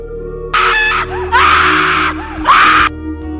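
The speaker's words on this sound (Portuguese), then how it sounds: "Pedro estava dormindo, então ele acordou ouvindo alguns gritos." A girl screams in a ghost story, three loud anguished cries in quick succession with short gaps between, each shrill and sustained, over a low steady background hum.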